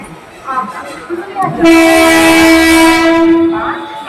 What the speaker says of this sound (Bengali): ট্রেনটি বালি ঢুকছে, এই যে অলরেডি ঢুকে গেছে